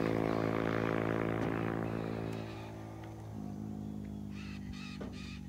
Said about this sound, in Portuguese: Os passarinhos ali cantando, uma arara.